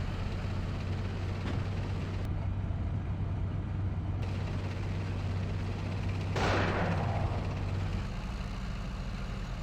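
Incoming fire in the tank simulator Steel Beasts Pro, heard over a steady low engine rumble: a couple of sharp cracks and one noisy burst near the middle, at moderate loudness.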